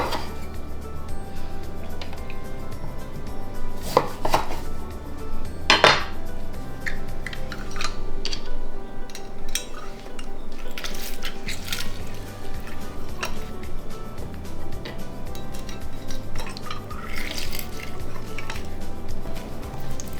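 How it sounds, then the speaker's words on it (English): A knife cuts limes on a board and the fruit is squeezed into guacamole, giving sharp clicks and taps, a couple of louder chops and soft wet squishes, close and unaccompanied by speech. "next we're gonna cut our limes and squeeze them in"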